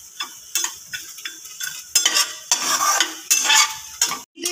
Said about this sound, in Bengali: কড়াইটাকে গরম করে নিয়েছি, এর মধ্যে সব মশলা দিয়ে দিলাম। হালকা ভেজে নেব, এটাকে মিডিয়াম আঁচে হালকা ভেজে নেব।